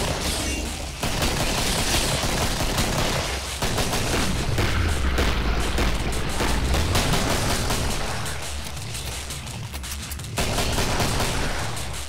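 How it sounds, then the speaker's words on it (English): Gunfire from the Killing Floor video game as the player switches to a pistol against specimens: a dense, loud fusillade of shots runs nearly throughout, with a deep rumbling swell in the middle. "I'm going to switch to the pistol here and demonstrate it taking out of it."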